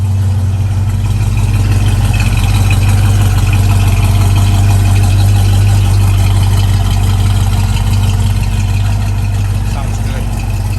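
A 1965 Ford Mustang V8 idles steadily up close, its exhaust giving a continuous low rumble for the whole stretch, with someone talking over it.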